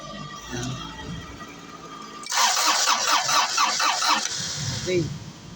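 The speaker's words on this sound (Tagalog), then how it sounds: "Umiikot na yung makina." A car engine cranks after a new starter motor is installed, a quick rhythmic whirring of starter turns lasting a few seconds before it stops, with faint background sounds around it.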